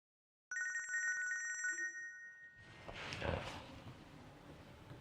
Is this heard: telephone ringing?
yes